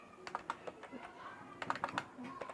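Password being typed on a computer keyboard while registering in a PHP web project: two quick bursts of close, crisp key clicks with a pause between them, no talking.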